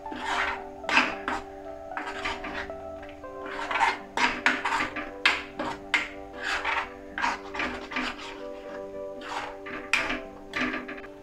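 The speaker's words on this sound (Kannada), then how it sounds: "ಇದನ್ನು ಮಿಕ್ಸ್ ಮಾಡ್ಕೊಳ್ಳಿ ಚೆನ್ನಾಗೆ, ಮಸಾಲೆ ಎಲ್ಲ ಮಿಕ್ಸ್ ಆಗಬೇಕು" Masala for Kolhapur egg curry stirred in a pan, a steady run of close scraping and rasping strokes from the spoon against the metal, irregular in rhythm, with no talking.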